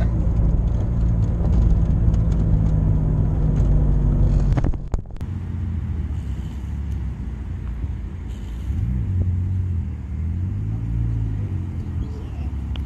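A McLaren sports car on a race track, its engine droning loud and steady from inside the cabin, then a sharp knock before the revs drop and swell again, with wind rush.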